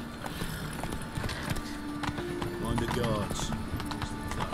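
Roach the horse trotting in Witcher 3, a steady clip-clop of hooves mixed with game ambience, while a voice speaks over part of it.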